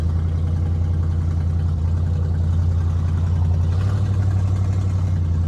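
1968 Buick LeSabre convertible engine running as the car drives, a steady, loud low rumble with a slight rise in pitch toward the end and no talking.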